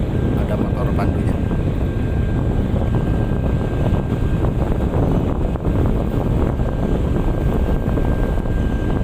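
A pilot boat's motor drones loudly and continuously at close range during a tug boat cast-off, with heavy wind buffeting mixed into the steady roar.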